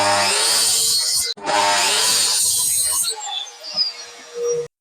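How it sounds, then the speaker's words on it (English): A miter saw cuts pallet wood for outdoor footstools with a loud, close whining buzz that breaks off briefly, starts again, then winds down and trails away at the end. "So let's get these cut on the miter saw and then we'll fix them to the frame."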